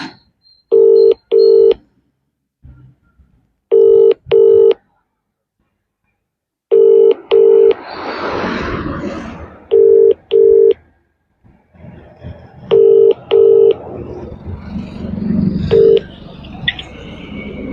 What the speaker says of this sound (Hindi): फोन कॉल लगाया जा रहा है